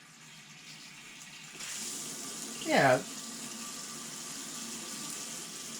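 A tap in an RV is opened and water runs in a steady gush into a sink, with a brief louder splash partway through and a voice saying a word over it.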